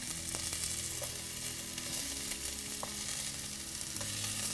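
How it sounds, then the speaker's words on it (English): Courgette noodles sizzle steadily in a pan of hot coconut oil, with a continuous close frying crackle and a few faint clinks, and no talking. "get a good sizzle going"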